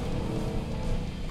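A 2022 RAM 1500 TRX pickup truck cornering on a dirt trail gives a steady, deep engine roar with a slight swell in revs, loud and continuous over the brief moment.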